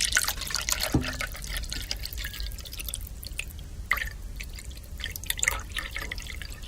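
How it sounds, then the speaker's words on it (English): Green water is poured into a martini glass: a continuous liquid trickle with dripping splashes and a few sharper knocks, fairly close, heard without speech. "Green water into a martini glass."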